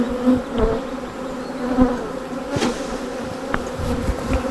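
Honeybees buzz loudly and continuously around an open beehive as frames are worked, a dense close drone with a few sharper passing buzzes and no voices.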